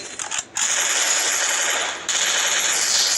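Rapid automatic gunfire in the mobile battle game Free Fire rattles loud and close in a continuous burst, briefly pausing before the stream of shots resumes.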